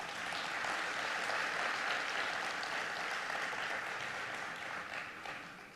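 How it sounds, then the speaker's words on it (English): Steady audience applause fills a large hall at an Expo 2020 Dubai summit, dense and sustained throughout and tapering slightly at the end. "Let's have a round of applause for that."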